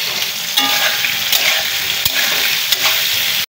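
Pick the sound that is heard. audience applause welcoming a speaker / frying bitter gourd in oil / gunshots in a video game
frying bitter gourd in oil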